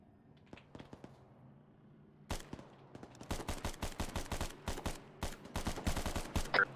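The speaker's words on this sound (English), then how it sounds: "Who's shooting?" Gunfire in the video game Cerberus Company, a few scattered distant shots followed by sustained rapid automatic bursts, fairly quiet and mid-distance, with no talking over it.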